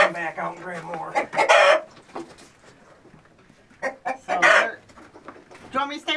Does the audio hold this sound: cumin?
no